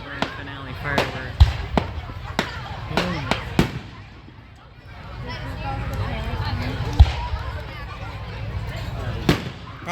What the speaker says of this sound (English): Yeah, it's the typical grand finale firework.